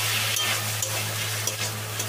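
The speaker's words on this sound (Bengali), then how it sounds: "এখন সব কিছু ভালো করে আবার মিশিয়ে নেব।" Fried chicken pieces being stirred through a chilli chicken sauce with tomato sauce in a pan, a steady sizzle under soft scraping strokes of a spoon, close and fairly loud throughout, with no talking.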